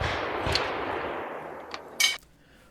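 Cowboy action shooting with a long gun: a loud gunshot with a long, rumbling outdoor decay, followed by a fainter crack and a second sharp, bright report near the end, with no talking.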